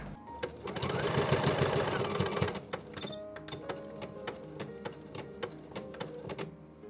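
Domestic sewing machine runs in a steady fast whir while stitching a summer blouson, then stops and gives way to sharp intermittent clicks and taps of needle and fabric handling.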